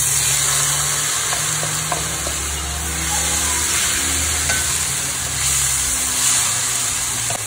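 Onion frying in a pan for a stuffed oven-roasted beef rump dish, with a steady, loud sizzle that continues without a break and no talking.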